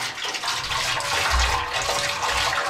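Water runs into a barrel in a newly built bathhouse, a continuous bright splashing gush with a low gurgling undertone, steady and close, with no voices.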